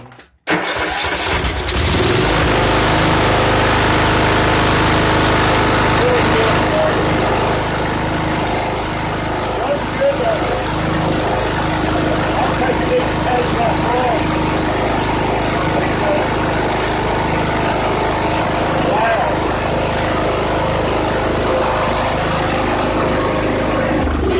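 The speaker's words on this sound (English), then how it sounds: "New Hipa carburetor working great." A Kohler 17 HP engine on a 2014 Troy-Bilt Bronco riding mower, fitted with a new carburetor, starts up and then runs at a loud, steady close-range drone for the full length without talk.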